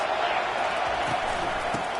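A dense, roaring football stadium crowd fills the background, steady and loud, with a voice talking over it.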